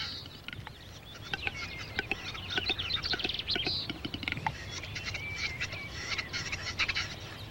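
A male capercaillie calls at a competitive display arena while defending his territory from rivals, giving repeated close, raspy honking and clicking notes in an uneven rhythm over a low background hum.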